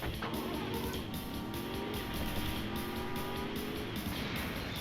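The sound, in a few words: car driving past in Driver 2 video game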